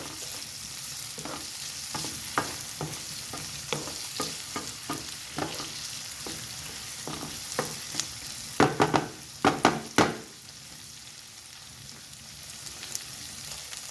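Beef fries in a pan with onion and garlic, a constant crackling sizzle broken by a series of sharp spatula scrapes and taps that cluster loudly near the end before quieting.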